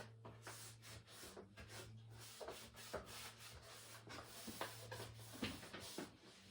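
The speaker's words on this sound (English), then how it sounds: "Make sure you rub it well." Wooden furniture being rubbed by hand with furniture tonic, a steady soft scrubbing with repeated strokes and faint knocks, close by, over a low constant hum.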